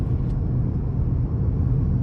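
A 2021 Ford Bronco Sport's small 1.5-liter engine hums while driving on the road, a steady low rumble and drone heard from inside the cabin with no voices.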